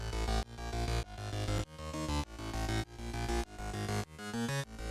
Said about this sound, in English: The flanger and the phaser work really hard together.